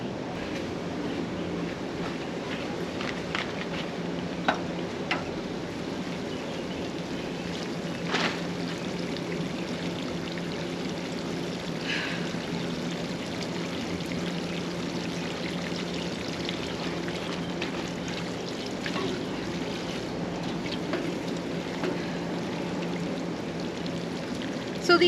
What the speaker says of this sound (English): now I just need to water these guys in and they're good to go.